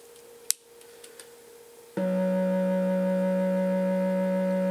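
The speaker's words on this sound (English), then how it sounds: "We'll put a sine wave into pulse width." A Look Mum No Computer 1222 Performance Oscillator kit in a eurorack setup, its pulse width modulated by a sine wave for vibrato: a few faint clicks and a quiet tone, then a loud, steady, buzzy harmonic drone begins abruptly and holds, with no voices.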